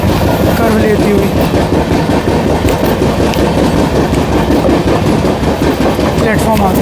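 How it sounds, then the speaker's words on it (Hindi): Amrit Bharat Express train rounding a curve, a loud, steady rumble with rhythmic wheel clatter heard from on board, with faint voices mixed in. "अमेजिंग कर्व के साथ हमारी अमृत भारत एक्सप्रेस"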